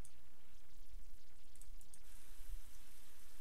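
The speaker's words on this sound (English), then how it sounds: "medium rain sounds pretty good, so I just switched out light for medium." Medium rain weather sound in the video game Skyrim: continuous broadband hiss of falling rain with a soft low patter underneath, even and steady throughout, no talking.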